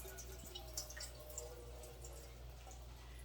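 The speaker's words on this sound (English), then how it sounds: "I'm going to pour all the juice into that" Juice from canned salmon trickles into a clean container on a kitchen counter, a faint, soft pour with a few small drips against a quiet background hum.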